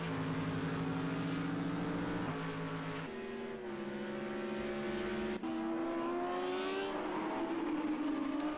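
Several GT3 race car engines scream together at Indianapolis GP in Project Cars 2, pitches climbing and shifting through gears, loud and close with continuous droning harmonics and no talk.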